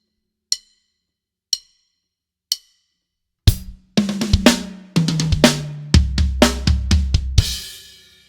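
A drummer plays a fill that moves from quick 32nd notes into steadier 16th notes, preceded by three evenly spaced clicks, with loud close tom and snare hits and cymbal crashes.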